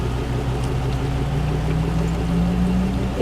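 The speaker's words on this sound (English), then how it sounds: "Clean, gray water." Gray water drains from an RV holding tank through a sewer hose, a continuous gushing, gurgling flow with a steady hum, loud and close.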